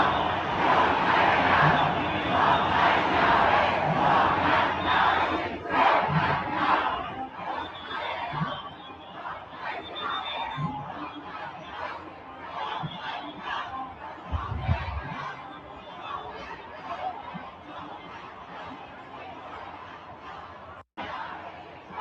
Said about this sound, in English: Just look at this insane crowd from Toronto.